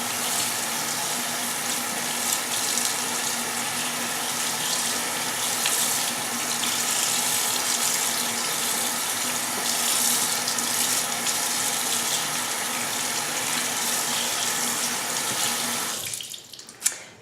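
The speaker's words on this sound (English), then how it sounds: "now the instructions are to rinse the brushes." A tap runs steadily into a sink as makeup brushes are rinsed, a continuous close broadband water rush that holds for most of the stretch and then cuts off abruptly near the end.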